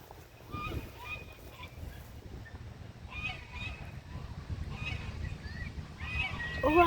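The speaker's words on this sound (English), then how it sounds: "Oh, I see some white ducks over there." White ducks or geese honk outdoors on a nature walk, several calls rising now and then at moderate distance under steady outdoor background noise, while a person talks throughout.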